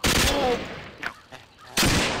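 Heavy gunfire while shooting zombies in the video game ApocZ, loud rapid bursts at the start and again near the end, with a quieter stretch between them holding a few scattered single shots.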